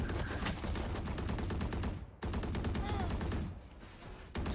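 Sustained automatic gunfire from the tactical shooter Valorant, dense repeated rounds firing in long runs with two brief gaps, loud and close, with faint voices underneath.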